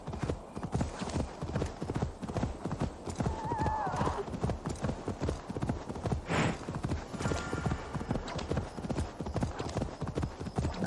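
A horse gallops in Assassin's Creed Valhalla, a steady rapid clip-clop of hooves over uneven terrain, close and continuous, with a brief whinny partway through and game ambience underneath.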